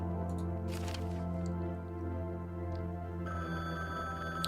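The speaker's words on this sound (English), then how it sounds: "we left the phone ringing" A telephone rings on and on in The Bookwalker: Thief of Tales, its steady tonal bell repeating over a low droning game ambience, fairly quiet and alone with no talk.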